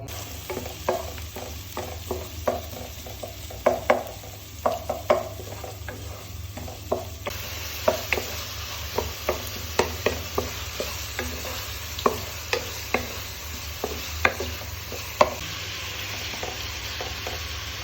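Chicken adobo (tuyo) frying in a pan, a steady sizzle with regular scraping stirs and clanks of a utensil against the pan, close and with no one talking.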